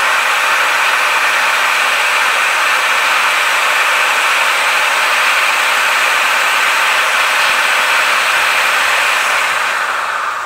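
A cheap JLD car polishing machine runs at maximum speed, giving a loud, steady high-pitched whirring hiss that holds constant for about ten seconds and eases slightly at the end.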